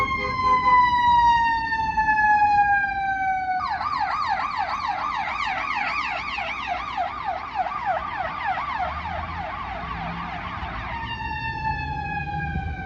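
An ambulance siren sounds loud and close, first as a slow rising-and-falling wail, then switching to a rapid yelp for several seconds before returning to the wail, over faint road noise.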